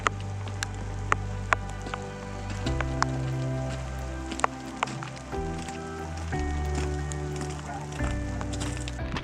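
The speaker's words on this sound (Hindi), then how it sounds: "वंस अगेन बारिश तेज़ हो गई है" Heavy rain patters down steadily while hiking in Kotor, with scattered drops ticking sharply against a surface amid a low, shifting background rumble.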